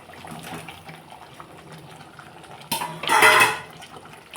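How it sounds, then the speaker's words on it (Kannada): Paneer dropped into a pan of boiling curd gravy: a quiet bubbling simmer, then a sudden louder splash and clatter lasting about a second before settling back. "ಇವಾಗ ಇದಕ್ಕೆ ನಾನು ಪನ್ನೀರನ್ನ ಸೇರಿಸ್ತೀನಿ"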